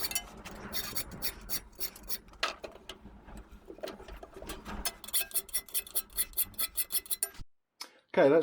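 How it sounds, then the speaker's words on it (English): A hand file rasping plastic circle jig parts for a Makita DRT50 cordless router trimmer, with close, repeated scraping strokes that speed into a regular rhythm before a short pause and a final clatter. "use a file to take these back down"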